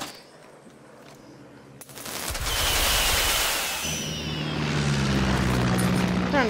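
A propeller plane in the video game Far Cry 6 roars in loudly and holds a droning engine tone, with bursts of rapid gunfire around it.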